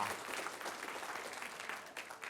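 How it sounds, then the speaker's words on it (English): An audience at a keynote on interest-based learning claps steadily throughout, a dense, even patter of many hands at moderate distance with no voices over it. "Every time we clap,"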